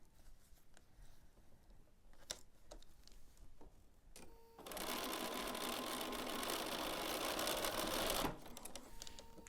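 A sewing machine stitches down the side of a quilt seam in a steady whirring run of about four seconds, close and fairly loud, preceded and followed by quiet handling clicks and fabric rustles.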